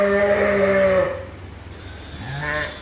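Two sheep bleats sound close by: a long, loud ewe call, a short quiet gap, then a shorter, softer bleat, likely from a lamb.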